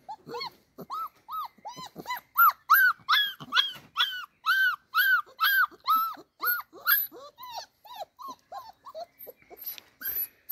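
A dog whimpers and yelps in a long run of rapid, high-pitched whines with occasional low growls mixed in, close and clear with no talk.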